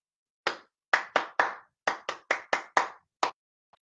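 Hands clapping a rhythm in a children's music lesson: ten crisp, close claps in an uneven pattern of single claps and quick pairs, alone with no talking.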